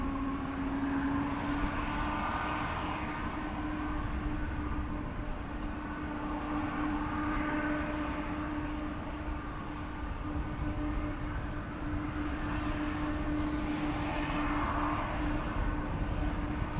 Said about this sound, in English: this is a 7879 Dreamliner, and this will constitute our final departure of the evening